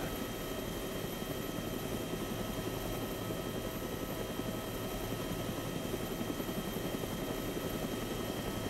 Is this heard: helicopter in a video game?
yes